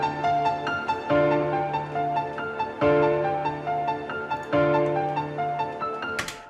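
A plucked, keyboard-like melody plays in repeating phrases, its tones slightly wavering in pitch like an old record, ending with a brief noisy swish.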